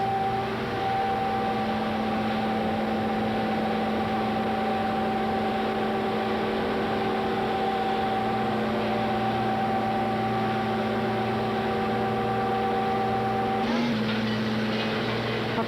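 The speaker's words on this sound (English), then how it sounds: "The noise you are hearing is from the gearbox." Gearbox driving a running DF mill, a constant loud mechanical drone with steady tonal hum under broadband roar, unbroken throughout with a slight shift near the end.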